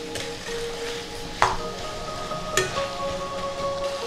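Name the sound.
spice paste being stir-fried (koshano) for Bengali mess chicken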